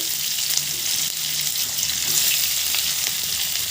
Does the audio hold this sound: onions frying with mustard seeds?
yes